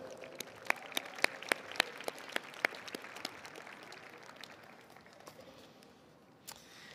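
Scattered audience clapping at the Iowa State Science and Technology Fair special awards ceremony, where FFA awards are presented: a handful of distinct, sharp claps in the hall that thin out and trail away into quiet.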